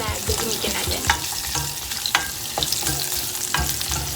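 Onion and vegetables sizzle and fry in a deep pan while being stirred, a steady close crackle broken by occasional scraping knocks from the utensil.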